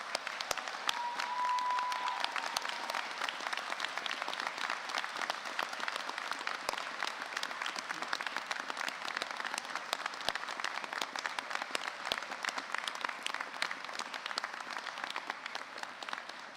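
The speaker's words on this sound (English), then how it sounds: "So can I ask you to rise and give your supporters a big clap." Sustained applause from an audience at a university graduation ceremony, as standing graduates clap for their supporters; dense, steady clapping that fills the whole stretch without speech.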